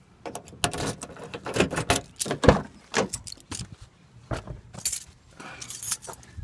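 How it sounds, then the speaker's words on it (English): Truck keys jangling and clinking in quick, irregular bursts close up, with faint handling and rustling noises between the rattles. "get the truck keys out"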